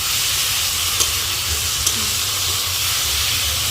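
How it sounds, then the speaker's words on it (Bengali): Spices fry in a pan, giving a steady, loud broadband sizzle that holds evenly throughout with a couple of faint clicks and no talking. "তো মশলা দিলাম একটু ভাজা ভাজা করে নিই"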